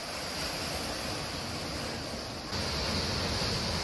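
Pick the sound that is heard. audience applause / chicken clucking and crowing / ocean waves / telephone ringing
ocean waves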